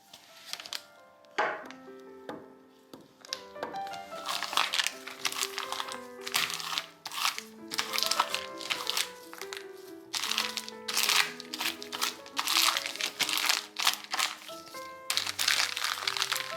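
Cream is loaded into a piping bag fitted with a 1 cm round tip, giving a run of dense crinkling and crunching plastic sounds that rise and fall in bursts over soft background music, with no talking.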